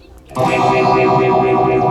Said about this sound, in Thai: แตกกับมอดูเลตนะสองอย่าง